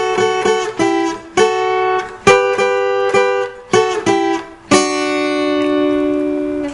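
A guitar plays the intro melody of a song as a series of plucked notes and short chord stabs, then closes on a sustained ringing chord. Clear and close, with no talking.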